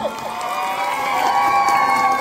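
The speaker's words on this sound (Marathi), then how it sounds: "आदेश फॅमिली कडून जे जे आहेत त्यांनी जरा जोरदार टाळ्या आणि शिट्या आणि आवाज करायचा आहे" At a sangeet night wedding celebration, guests of the Adesh family clap, whistle and cheer in a steady, dense wash of crowd noise, with shrill whistles and shouting voices carrying over the clapping throughout.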